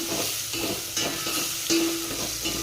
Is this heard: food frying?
yes